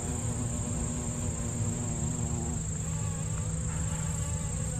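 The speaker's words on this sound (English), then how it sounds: "I hear bees all over the place." Steady insect buzzing fills the air, a continuous drone of many bees with a high whine above, ongoing outdoors in a park without talk.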